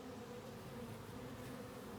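Honeybees swarm around an open hive frame, a faint continuous droning hum that stays even and close throughout, with no voices.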